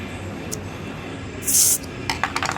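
Gas hisses in a sharp, brief burst as the valve of a small Cartier gas lighter is purged of air, followed by quicker spurts and clicks over a quiet background.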